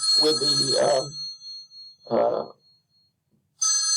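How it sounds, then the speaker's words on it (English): An office telephone rings in trilling electronic bursts, heard at the start and again near the end, with someone talking in between. "excuse me for the phone ringing. I didn't have it on silent."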